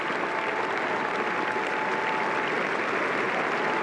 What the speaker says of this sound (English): gets a tremendous round of applause from an appreciative audience here at Headingley